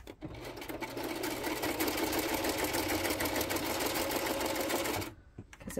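A sewing machine runs steadily at high speed for about five seconds, loud and close, then stops abruptly, leaving faint clicks.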